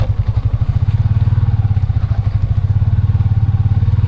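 A motorcycle engine putters in a fast, even rhythm close by while riding along a muddy rural road in Leyte, a steady loud chugging with no pauses.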